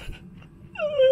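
A dog gives a short, close whining moan that rises into a sustained high, wavering tone after a softer low grumble.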